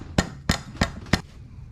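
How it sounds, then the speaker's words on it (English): Four sharp, evenly spaced hammer taps strike a metal piece to seat a Can-Am front differential seal, close and loud with a bright metallic ring. "I'm going to just tap that with the hammer"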